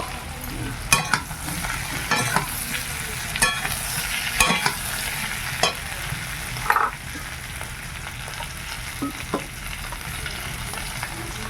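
Chicken stir-frying in a pan with chillies, a steady close sizzle broken by sharp scrapes and clacks of a spatula at irregular intervals, no voices.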